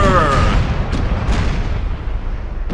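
Naval cannon broadside in the Imperial Splendour strategy game, heavy booming blasts layered into a rumbling roar that fades, with a sharper distant shot near the end, all dense and loud.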